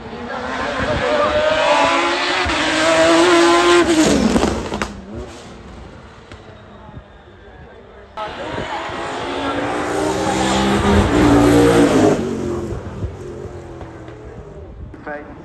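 Race car at speed on the Goodwood Festival of Speed hillclimb course, engine roaring loud and close in two long passes with a quieter gap between, a commentator talking over it.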